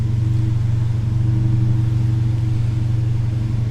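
A 2015 Dodge Challenger R/T Scat Pack with active exhaust idles after startup, giving a steady, close, low rumble without sharp revs.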